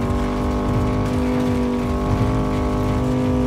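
A car races in Cyberpunk 2077, its engine holding a loud steady droning hum with tonal whine while tyres and road rumble churn underneath, close and continuous.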